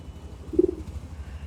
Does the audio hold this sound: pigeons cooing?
yes